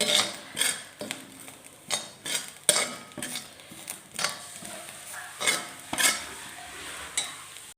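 Grated coconut roasting in a pan, stirred with repeated rhythmic scraping strokes of a utensil against the metal about once a second, up close and without talk.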